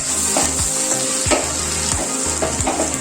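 Fried onion rings and coriander being stirred into a pan of vegetable semiya pulao, a constant hot sizzle with repeated scraping stir strokes, close up and without speech.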